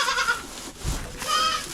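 Boer meat goats bleat in a kidding barn, two wavering calls near and fairly loud separated by a short gap, with barn noise and a low thump between them.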